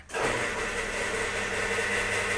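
A car engine with a repaired rusted exhaust and an added second muffler cranks and catches almost at once, then settles into a steady, fairly loud idle rumble.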